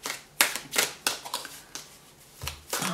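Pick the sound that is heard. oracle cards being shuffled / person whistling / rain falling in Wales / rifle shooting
oracle cards being shuffled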